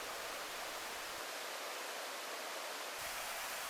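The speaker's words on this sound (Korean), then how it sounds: "구천동 계곡의 제28경인 구천폭포입니다." Gucheon waterfall, the 28th scenic spot of Gucheondong valley at Deogyusan, pours in a steady, dense rushing roar of water with no break, close and enveloping.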